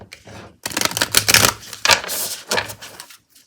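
A deck of Affirmators cards being riffle shuffled, giving quick, close, crisp fluttering bursts of card edges in several short runs, with brief pauses between them.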